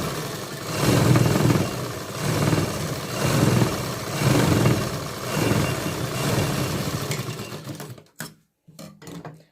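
A sewing machine stitching sleeves onto a kurti runs in steady, loud pulsing bursts of mechanical whirring, then stops and gives a few short final stitches.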